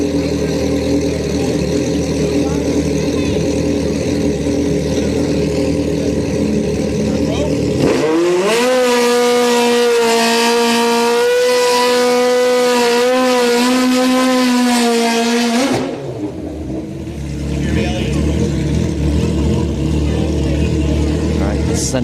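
A Triumph motorcycle at a street-night drag racing event at Orlando Speed World, a loud engine note that rises sharply and holds in a high, climbing whine before cutting off, over a constant crowd and track din.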